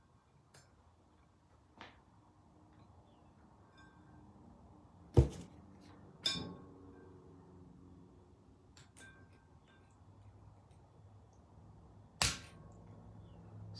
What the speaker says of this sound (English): take the E-clip, take the screw and your mallet, and just bang it in there